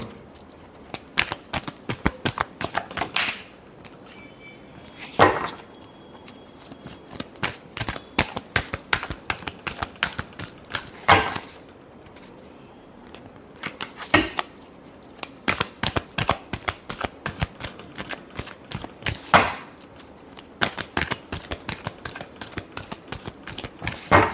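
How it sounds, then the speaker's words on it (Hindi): Tarot cards being shuffled in repeated bursts of rapid crisp riffling and flicking, close and clear, with short pauses between rounds and no talking. "last shuffle"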